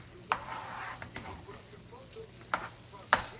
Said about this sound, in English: you just let it simmer so you can finish the rest of your meat